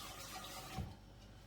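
Water running from a tap into an opened can of beans for a quick chili, a steady faint filling rush with a brief splash near the middle before it quiets.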